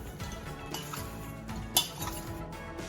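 Vegan butter ball cookies tumble in a bowl of confectioner's sugar, a continuous close rattling and scraping with light clinks and one louder knock.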